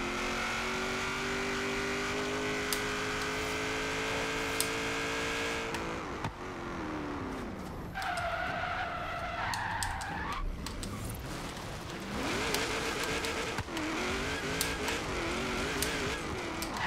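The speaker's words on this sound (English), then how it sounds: "Boost this car, because that would sound really good if we boost this car." Engine of a video game race car revving and racing, with rising and falling pitch sweeps, loud and continuous with no talk.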